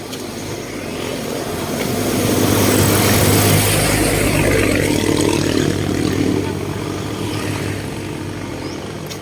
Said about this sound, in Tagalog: Lots of traffic this morning